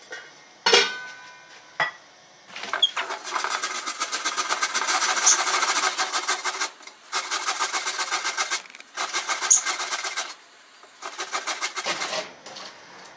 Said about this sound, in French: je vais râper les carottes.